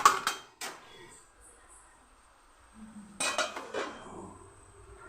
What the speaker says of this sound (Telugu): ఇప్పుడైతే మూత పెట్టుకొని అయితే ఉడికించుకుందాం మనం.